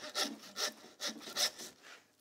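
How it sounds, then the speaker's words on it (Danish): A hand saw cuts through pork bones while a butcher breaks down a pig's middle section, giving five rhythmic, raspy back-and-forth strokes at close range with no talk. "så prøver jeg at se, om jeg kan ramme med saven, der hvor knoglerne ligesom er højest"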